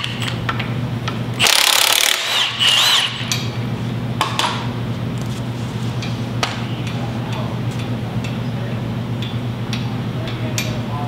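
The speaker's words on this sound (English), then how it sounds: "You saw that I used an impact gun here." A pneumatic impact gun works on an engine mount in a Honda CRX engine bay being prepared for a K-series AWD swap. It gives two loud, close, buzzing bursts of a second or so each over a steady low hum, with no talking.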